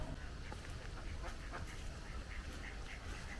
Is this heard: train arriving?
no